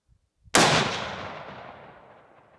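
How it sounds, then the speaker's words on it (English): Single Tikka rifle shot fired at a target outdoors, one sharp loud crack followed by a long rolling echo that fades over about two seconds. "I'll shoot for the EE."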